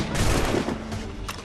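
Gunfire in the video game Assassin's Creed Rogue: a dense, loud, continuous burst of overlapping shots and booms with no gaps across the short stretch.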